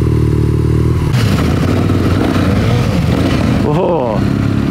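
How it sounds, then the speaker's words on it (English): Ducati Scrambler 1100 motorcycle engine running loud and close, a dense steady throbbing idle that swells into a brief revving rise near the end, with clattering mechanical noise on top. "I've now got the Ducati Scrambler 1100. That sounds amazing."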